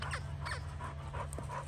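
A dog whimpering in short high whines alongside quick rhythmic panting, close by, with a steady low hum in the background and no talking.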